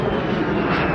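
A loud, steady engine drone of a rare propeller airplane passing nearby at the Portrush Airshow 2024, a constant rumbling roar with no voices.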